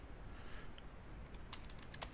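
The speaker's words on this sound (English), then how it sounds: "Okay, and I'll type in here" Quiet keystrokes on a computer keyboard, a short burst of light clicking taps near the end, faint against a hushed room background.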